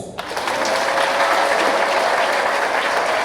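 Church congregation breaks into loud, sustained applause, a dense wash of clapping that swells in quickly and holds steady up close.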